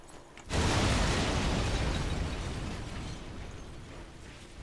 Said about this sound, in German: Hey, da hinten explodiert gerade ein komplettes Lager.